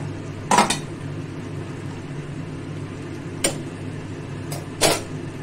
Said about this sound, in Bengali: আমি পরিবেশনের জায়গায় ঢেলে দিলাম।